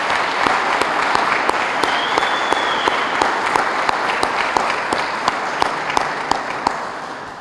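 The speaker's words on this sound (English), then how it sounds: "So if we could just get a round of applause for anyone in here who serves in emergency response." Applause at a town's state of the town address, honouring emergency responders: a sustained room-wide patter of clapping with several sharp nearby claps in a regular beat and a brief whistle near the start, slowly fading.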